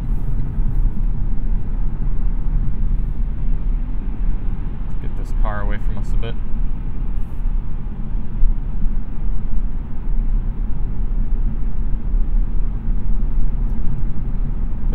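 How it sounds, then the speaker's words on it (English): Steady low road and engine rumble inside a 2021 Lexus ES cruising at 70 mph on the highway, a quiet, even drone running the whole time with a brief voice in the middle. "we'll let you hear what the ES sounds like at 70"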